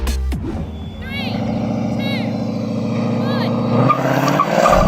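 Drag race launch between a BMW 3.0 CSL and a Ford Mustang V8: loud, continuous engine roar with rising revs and repeated bursts of tire squeal, close and sustained throughout.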